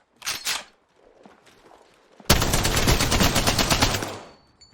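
Gunfire in a video game shooter: a couple of short shots, a quiet gap, then a sustained loud burst of rapid automatic fire lasting about two seconds before trailing off.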